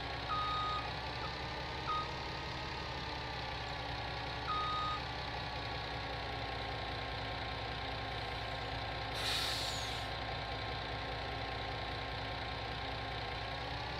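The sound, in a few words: truck reversing in Farming Simulator 19 video game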